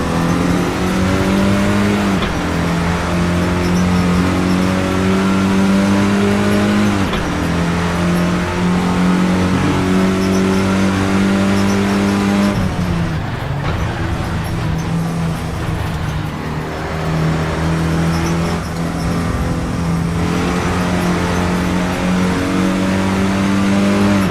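A Clio Cup race car in a sim racing game drives hard, its engine rising through the revs, dropping at gear changes and braking, then climbing again, loud and continuous for over twenty seconds.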